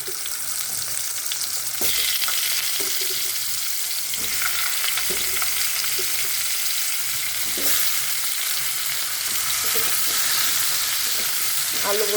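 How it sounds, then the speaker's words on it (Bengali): Cut potatoes frying in oil in a pan while cooking a fish curry, a continuous loud sizzle with occasional stirring scrapes and clinks, close up and without talk. "আলুগুলো ভাজা হতে থাক"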